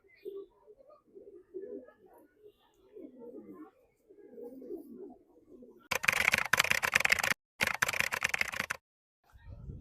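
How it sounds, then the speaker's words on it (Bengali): A male pigeon coos in soft, repeated low murmurs for about five seconds, then loud harsh rustling bursts follow, cutting in and out before falling silent. "এই যে একটা কবুতর দেখতে পারতেছেন এটা একটা নর কবুতর"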